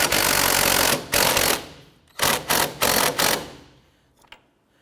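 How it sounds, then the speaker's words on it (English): A 15mm deep socket spins off the rear sway bar end link nut on a 2006-2013 Chevrolet Impala, heard as loud, rapid mechanical rattling bursts, one long run and then several short ones that fade to quiet. "Using a 15mm deep socket, we're going to go ahead and remove our Swivel end link nut"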